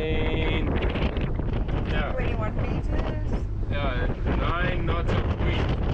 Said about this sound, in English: So the wind is, it's really gusting in here